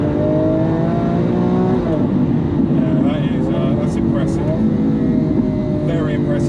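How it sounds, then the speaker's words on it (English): A Lamborghini Aventador S with a V12 engine accelerating hard toward high revs, a loud sustained engine note rising in pitch, heard from inside the car with a voice speaking over it. "the torque towards the top end of the RPM, that's where you really start to feel that V12"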